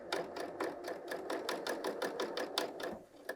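A BERNINA L 890 sewing machine stitches a woven top in close, rhythmic bursts, its needle clatter pulsing evenly with short pauses as the fabric is fed through.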